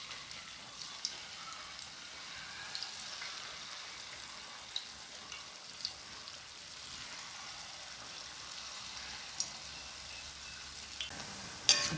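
Unniyappam batter fries in an appam pan, giving a faint, steady sizzle with scattered soft pops and crackles throughout.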